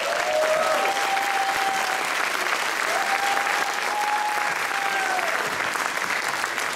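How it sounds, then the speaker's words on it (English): A high school honor band audience applauds a trumpet soloist, sustained crowd clapping filling the hall, with a faint whistle or cheer rising briefly above it. "A big round of applause for Will,"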